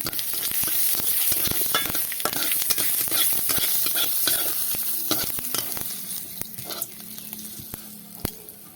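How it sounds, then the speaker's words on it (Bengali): Cumin seeds fry in hot oil in a wok, a steady loud sizzle with busy crackling pops and stirring clatter throughout, easing slightly toward the end. "কড়াইতে তেল দিয়ে দিয়েছি কটা জিরে দিয়ে দেবো এবার এই জিরে কটা আমি ভেজে একটু তুলে নেব"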